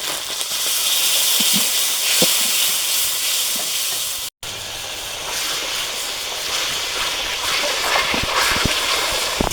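Spice paste with green chilli, red chilli powder, salt and a splash of water sizzles steadily in oil in a pan for a large boal fish curry, a continuous loud hiss with a brief break midway.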